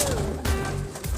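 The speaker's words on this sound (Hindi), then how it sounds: "तो ये देखे ना कबूतर" Captured pigeons coo close by in a short burst, a low throaty call sliding downward under a busy, noisy background with faint voices.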